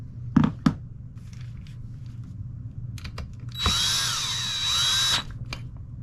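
A power drill drives bolts into a Suzuki DR 200 motorcycle in one loud, steady whir lasting about a second and a half, preceded by a couple of sharp clicks, with no talking.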